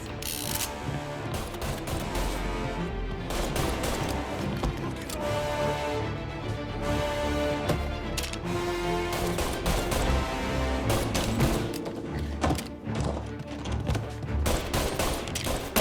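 Rapid gunfire in Mafia: Definitive Edition, a dense run of loud, close shots and bursts with mechanical clatter, continuous and intense for the whole stretch, no voices.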